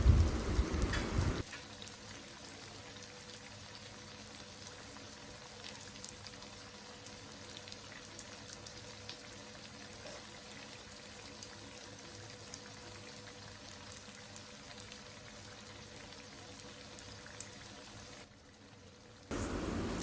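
Unniappam frying in coconut and ghee in an appam pan gives a soft, steady, rain-like sizzle that holds at low level throughout, with no talking.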